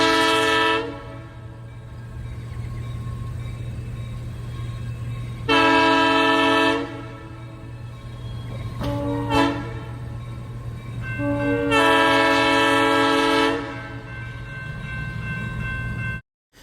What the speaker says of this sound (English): I did find recordings of a Denver and Rio Grande M3.